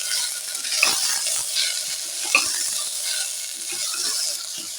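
Tomato and a ground chili, ginger and fennel paste fry in a pan, a steady bright sizzle with soft stirring scrapes and small pops running throughout, close and moderately loud with no talk.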